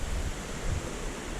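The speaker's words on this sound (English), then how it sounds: "it's raining" Rain hisses down beside a waterfall, a dense, even roar of falling water and spray with no voices, filling the short stretch at a steady level.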